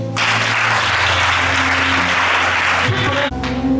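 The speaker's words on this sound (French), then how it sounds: "Il faut acclamer Jésus" A church congregation breaks into sustained, loud applause and cheering for Jesus during a night vigil, a dense steady clapping that fills the room before cutting off abruptly near the end.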